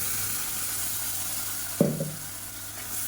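Ground tomato paste sizzling in a pan for tomato kuzhambu, a steady frying hiss throughout with one sharp clink of a stirring spoon partway through.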